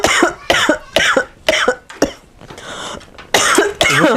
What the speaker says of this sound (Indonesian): Batuknya gak berhenti dari kemarin.